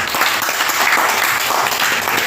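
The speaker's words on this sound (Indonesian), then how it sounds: "Tepuk tangan untuk Pak Aryo." Loud, dense applause from a close crowd, a continuous roar of clapping with no pauses.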